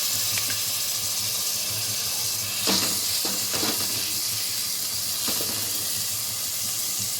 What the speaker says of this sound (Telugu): ఇవి ఆయిల్లో ఫ్రై అవుతూ ఉంటాయండి.